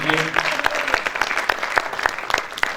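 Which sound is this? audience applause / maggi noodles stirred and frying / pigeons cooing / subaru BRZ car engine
audience applause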